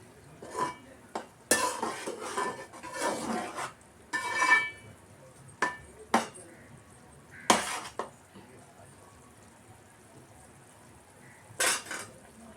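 A spoon stirs mango fish curry in a metal pot, giving irregular scraping clanks and knocks in short bursts with quiet gaps and a faint simmer underneath.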